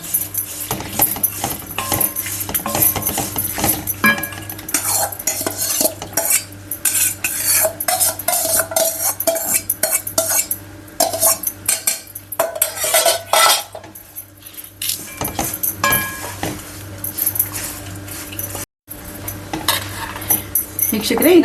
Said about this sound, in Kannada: ಈಗ ಅನ್ನ ಮಿಕ್ಸ್ ಮಾಡ್ಕೊಂಡಿದ್ದೀನಿ ಅರ್ಧ ಪಾವಷ್ಟು.